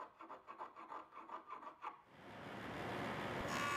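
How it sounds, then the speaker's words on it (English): Handsaw cutting wood to square notch corners, heard as rhythmic, close back-and-forth rasping strokes, followed by a steady rising machine-like whir. "squaring them up is just a couple minutes' work with a handsaw and a sharp chisel"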